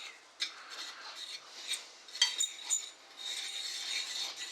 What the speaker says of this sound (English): Just give that a bit of a stir around.